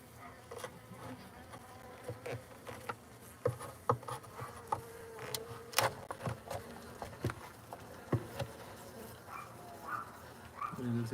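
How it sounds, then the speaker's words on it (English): Insects, likely bees, buzz around a hive, with small scattered knocks and taps over a steady faint hum throughout. "It looks like they're stinging that bee."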